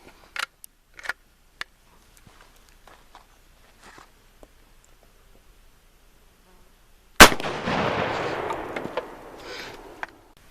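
A single loud, sharp shot from a muzzleloading conversion of a Ruger 10/22 charged with 35 grains of 777 and a BB, cracking out abruptly after quiet scattered clicks and trailing into a few seconds of rough noisy decay.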